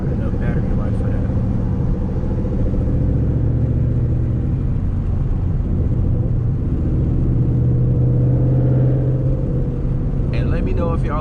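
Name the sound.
loud Ford Mustang GT S197 engine while driving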